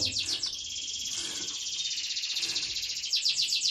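Canary birds chirping steadily in rapid, bright trills that run without pause, close and fairly loud, with no talking.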